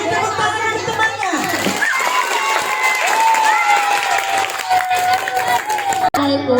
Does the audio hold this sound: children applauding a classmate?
yes